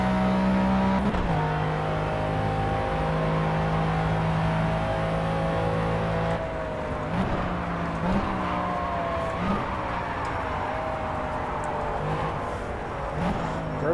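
A McLaren F1 race car in the Project CARS video game at Le Mans, its engine droning loudly, then pitch dropping and rising through repeated gear changes under hard braking, close and continuous.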